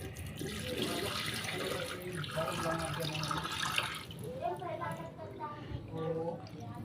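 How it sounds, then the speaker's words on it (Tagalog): Water splashes and gurgles as it is poured out of a betta fish container steadily for several seconds, with a person talking over it. "Tapon lang natin yung tubig nito mga keepers."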